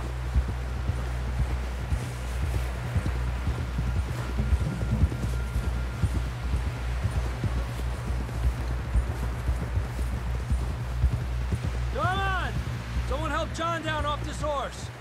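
Horse hooves clip-clop at a steady walking rhythm in Red Dead Redemption 2, heard beneath a low ambient rumble, with brief voices and a whinny-like sound near the end.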